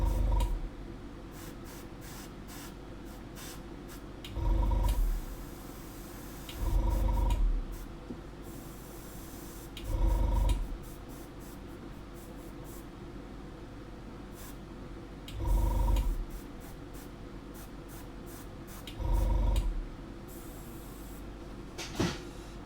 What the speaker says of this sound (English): the cool thing about the airbrush is once you get quite practiced with it, and I'm actually intentionally speckling this